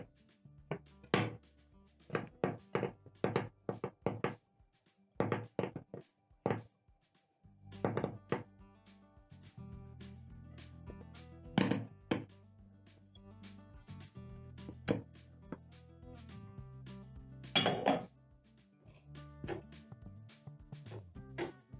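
Custard cookie dough is kneaded by hand on a countertop, making a series of dull thumps and soft knocks in irregular bursts, then a steadier low rumble of pressing and rolling. It is fairly quiet and close, with no talking.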